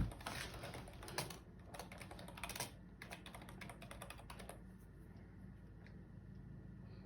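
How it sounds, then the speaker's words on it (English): Quick bursts of typing on a computer keyboard, a fast run of close clicks for about five seconds, then trailing off into quiet room noise. "When the box comes up, type in your name."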